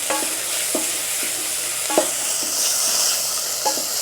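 Sweet potatoes frying in a pan with spice being stirred in: a constant close sizzle punctuated by regular scraping strokes of a spoon, about one every half second.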